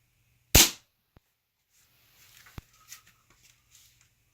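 Weihrauch HW97KT air rifle firing a single sharp, loud shot close by, followed by faint ticks, a small impact click and low rustling.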